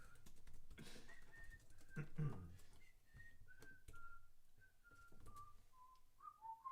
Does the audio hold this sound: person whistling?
yes